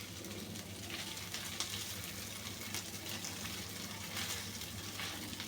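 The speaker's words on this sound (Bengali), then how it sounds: "এবার আমি আগে থেকে রান্না করে রাখা ভাতটা দিয়ে দেব।" Pre-cooked rice tipped into a hot oiled frying pan for fried rice, giving a steady close sizzle and hiss that runs evenly throughout with no talking.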